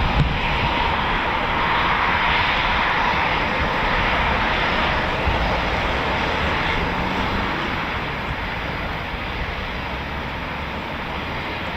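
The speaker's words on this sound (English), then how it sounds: "here comes our Chipmunk, looking ready for departure" A de Havilland Chipmunk training aircraft, one of two flown by the Battle of Britain Memorial Flight at RAF Coningsby, runs its engine before departure, a steady, fairly loud broadband drone that holds for the whole stretch and fades slightly near the end, with no talk.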